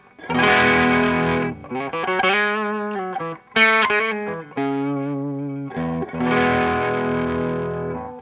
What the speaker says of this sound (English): I'm gonna be back with my Les Paul and just we'll play a few chords for you with humbuckers.